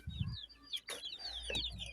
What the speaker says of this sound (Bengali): এই যে দেখেন মুরগিগুলো